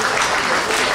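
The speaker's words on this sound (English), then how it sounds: "everyone clap to that" A conference audience at a debate bursts into loud, dense applause, a continuous wash of clapping filling the whole brief moment.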